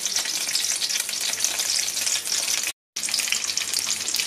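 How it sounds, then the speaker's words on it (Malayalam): Dried red chillies broken into hot oil with mustard seeds, urad dal and curry leaves fry with a dense, continuous crackle and hiss, close by, cut by a brief silent gap. "ഇനി അതിലേക്ക് വറ്റൽമുളക് പൊട്ടിച്ചിടുന്നു."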